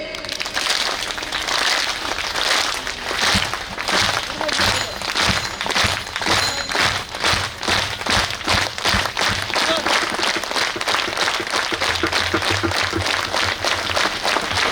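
Rhythmic group clapping keeps a steady beat throughout a Marathi devotional kirtan by a kirtankar, with the audience chanting the name of Sant Muktabai along with it. The clapping and voices stay loud and continuous.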